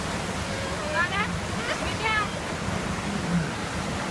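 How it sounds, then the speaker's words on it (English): Thunder Bird Falls waterfall, a steady broad rush of falling water close by, with a person talking briefly over the constant roar. "That's the waterfall."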